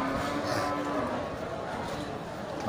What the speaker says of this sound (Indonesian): sapi sehat dan segar dari jenis sapi Aceh